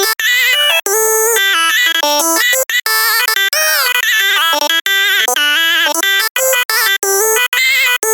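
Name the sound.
vocal melody pitched up an octave, formant raised, Vocal Transformer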